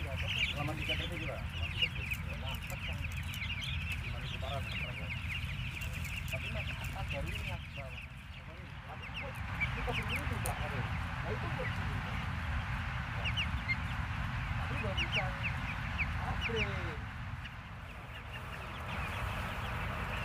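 Chickens in a closed-house poultry coop give a steady chorus of clucks and calls across the whole stretch, with occasional voices talking over the flock's constant din.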